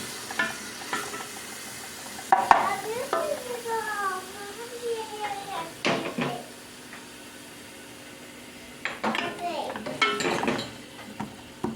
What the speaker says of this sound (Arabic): درنا الزيت تاعنا يتقلى، نرمي البصله تاعي. رميت البصله تاعي تتقلى